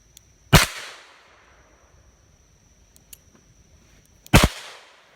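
Two sharp, loud reports from a Smith & Wesson 586 .357 Magnum revolver fired double action, spaced about four seconds apart, with faint clicks and handling noises in between.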